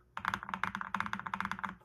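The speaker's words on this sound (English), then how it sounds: "This is the ZoneX 75, and it's a custom mechanical keyboard." Rapid typing on a ZoneX 75 custom mechanical keyboard with a creamy sound profile, a close, brisk run of soft keystrokes over almost two seconds, heard alone.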